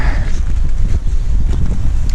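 Strong coastal wind at Runswick Bay on the Yorkshire coast, roaring and buffeting the microphone with loud, rumbling low gusts that continue without a break.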